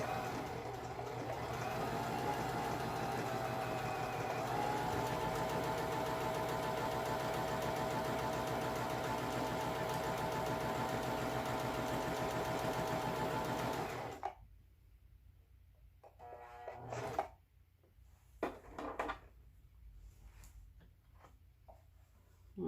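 A Singer M3220 sewing machine stitches a scallop design in a steady, rapid whir for about fourteen seconds, then stops, leaving a few soft clicks and handling sounds.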